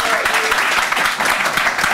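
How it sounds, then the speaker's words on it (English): Audience applause at a tech meetup as a speaker is introduced, dense continuous clapping from a roomful of people with faint voices mixed in. "give him a big applause"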